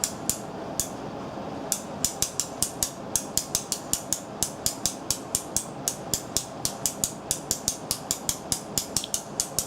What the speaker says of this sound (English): you just want to crank your bow